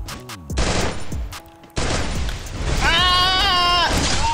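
Sharp MP40 gunfire bursts in Free Fire, several shots in quick succession, mixed with electronic game sounds and a rising tonal effect.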